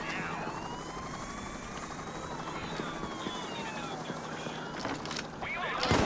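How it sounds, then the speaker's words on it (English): Helicopters and SWAT vans close in during a Payday 2 heist, a steady rotor-like drone with rising sweeping tones over continuous background noise, loudening toward the end. "Choppers and SWAT vans all over the place around you."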